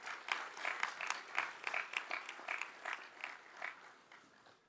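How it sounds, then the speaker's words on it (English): A sparse, fairly quiet round of hand clapping from a small audience at a business summit felicitation, individual claps distinct in an uneven rhythm that gradually thins out. "Can we have a huge round of applause, please?"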